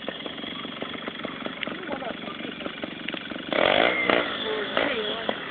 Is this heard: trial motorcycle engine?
yes